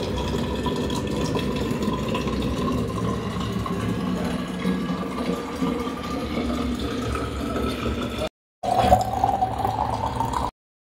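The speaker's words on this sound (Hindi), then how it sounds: "तो सबसे पहले मैं भर लेती हूँ अपनी पानी की बॉटल" Water runs steadily from a tap into a bottle, a continuous close splashing flow that rises in pitch as it fills, briefly cut off near the end before resuming.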